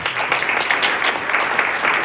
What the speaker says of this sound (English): If we can do a little round of applause.